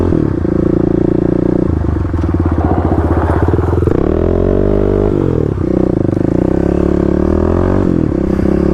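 A Kawasaki KLX351 dirt bike slides around a corner, its engine loud and close with a steady drone that rises and falls as the throttle changes, with rough rattling from the tyres in the dirt.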